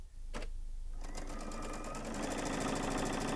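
Sewing machine stitching quilt pieces along a quarter-inch seam, a rapid, loud, continuous mechanical chatter that starts after a brief tap and runs steadily to the end, close to the microphone.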